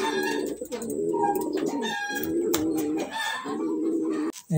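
Homing pigeons coo softly and repeatedly near at hand after flying back to their loft, a steady layered murmur of several birds with brief pauses and no talking.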